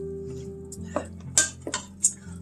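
A spoon clinks and scrapes against a pan while eggplant pasta is stirred, with four or five sharp metallic taps over a low steady hum, close and moderately loud.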